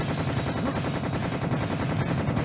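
Rapid automatic gunfire during a boss fight in the video game Serious Sam, a continuous fast stream of evenly spaced shots at steady volume with no talk.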